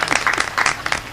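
A short burst of clapping at a Hindi poetry gathering, a few uneven claps from a small crowd heard close and fairly loud over about a second.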